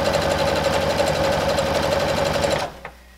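A sewing machine runs steadily while stitching the shoulder seam of a cottagecore pinafore apron, a loud, fast, even mechanical hum and rapid needle clatter that stops abruptly near the end, followed by a single small click.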